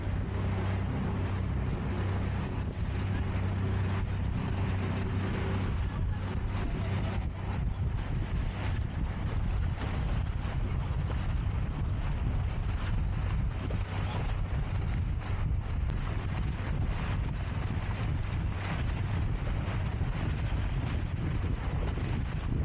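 Water taxi boat crossing the open sea, a continuous roar of wind buffeting and engine drone with waves rushing past, loud and unbroken.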